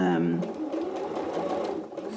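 A sewing machine runs in a fast, even whir, stitching a quarter-inch seam along fabric, close by, with a voice speaking over it.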